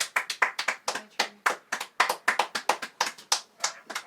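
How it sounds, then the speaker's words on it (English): Crisp, distinct hand claps in a loose, uneven rhythm, close and fairly loud, with short gaps between bursts and no speech. "you're just clapping and not saying anything"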